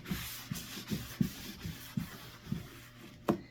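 Dried Paint Couture embossing medium being wiped off a surface, heard as soft, quiet rhythmic rubbing and scuffing strokes, roughly two per second, with a sharper scrape near the end.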